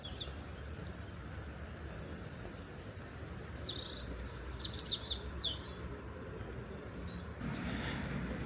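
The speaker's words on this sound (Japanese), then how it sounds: "本当にたくさんの鳥が鳴いてます。" Many birds chirp and tweet in scattered bursts by a river in Podgorica, Montenegro, over a steady low background rumble, some calls sharper and closer than others.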